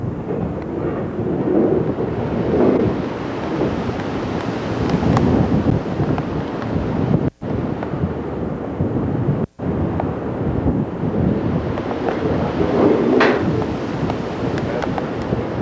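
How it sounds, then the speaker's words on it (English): Steady wind buffets the microphone with a continuous rushing roar aboard a boat in Alaska, while water laps and surges faintly beneath; two brief cut-outs interrupt the noise. "Not too windy today, a little bit of a steady breeze."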